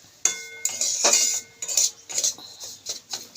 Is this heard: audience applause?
no